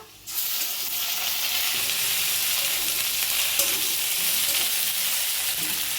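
Whole spices and ginger paste hitting hot oil in a pan, a sudden loud burst of hissing sizzle that then holds steady and dense, close and continuous with a faint scrape or two, no voices.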